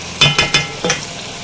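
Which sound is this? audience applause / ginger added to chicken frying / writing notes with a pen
ginger added to chicken frying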